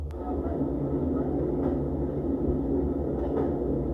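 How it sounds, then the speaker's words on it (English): A constant low rumble of plane noise fills the space, a steady droning hum with faint higher hiss, like sitting in a cabin during landing, heard through Edifier WH950NB Gen 2 headphones with noise cancellation and ambient sound modes. "recording the ambient sound of a plane landing"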